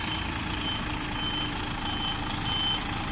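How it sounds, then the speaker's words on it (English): An articulated tractor unit and trailer reversing through a cone exercise, its diesel engine idling at low revs in a steady, even drone with no voices. "Now getting our truck and trailer in line, putting right-hand lock on"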